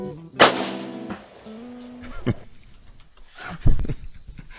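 A single sharp, loud rifle shot with Tula ammunition cracks out, followed a few seconds later by a dull, distant thump of impact.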